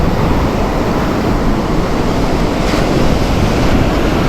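Big ocean waves surge and crash on a fishing trip for trevally, a loud continuous roar of surf mixed with wind buffeting the microphone, with no voices.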